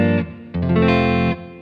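Electric guitar played through an MPC tube amp with a Princeton-style front end and Deluxe-style output, using reverb: loud sustained distorted chords in two or three strums, each ringing out with a reverberant tail.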